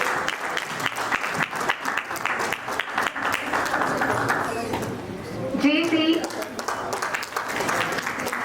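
Sustained applause at a JCI Raipur Sangwari award function in 2023, steady clapping from a crowd that runs throughout, with a host speaking over it as names are announced.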